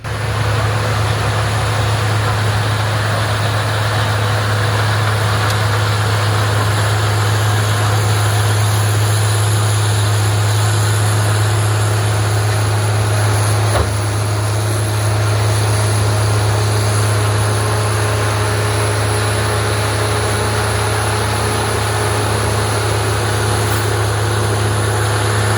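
A truck and a large snowblower pass along a snowy street, heard as a steady, continuous engine rumble with a strong low drone that holds throughout, fairly loud and even with no talking.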